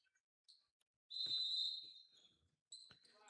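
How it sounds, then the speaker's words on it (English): A referee's whistle shrills to start a championship high school basketball game in a city auditorium. One long, loud blast comes after a few short chirps, and a second whistle follows, with faint crowd noise behind. "we have got a whistle and a toss, and we are underway"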